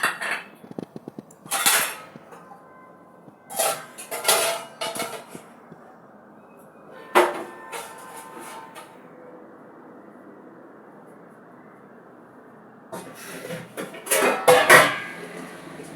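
Washed pots, dishes and utensils are handled in a household setting: several bursts of metallic clinking and clattering, loud and close, separated by quiet pauses.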